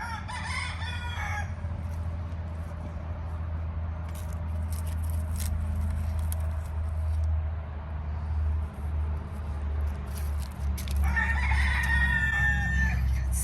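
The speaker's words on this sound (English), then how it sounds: "Stereo roosters going on." Roosters crow loudly near a vegetable garden at lunchtime, one call at the start and another near the end, over a steady low background hum with no talking.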